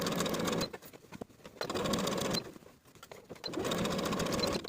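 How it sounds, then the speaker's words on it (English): Sewing machine stitching the bottoms of blouse sleeves together with a half-inch seam allowance, running in three steady bursts separated by short pauses, close and fairly loud with no talking. "Sew the bottoms of the sleeves together all the way around with a 1/2 inch seam allowance."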